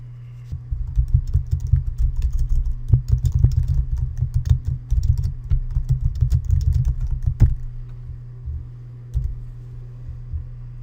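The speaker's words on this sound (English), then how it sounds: "so I'll type in my title." Steady, close keystrokes on a computer keyboard as a title is typed into a submission form, with rapid clicks for several seconds and then a few scattered taps over a low background hum.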